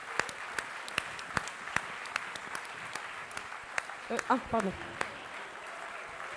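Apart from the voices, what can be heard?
audience applause at graduation ceremony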